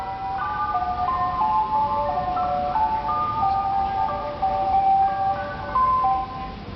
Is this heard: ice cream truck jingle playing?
yes